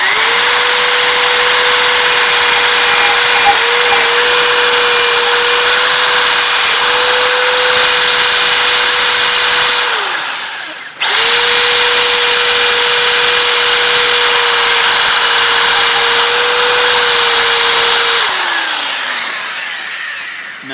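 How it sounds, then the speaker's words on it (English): A power tool grinds rust off the flywheel magnets of a Briggs & Stratton 3.5 HP engine, a loud, steady high whine with a harsh hiss that cuts out briefly, restarts, then winds down as the tool spins to a stop. "so just going to grind off the rust."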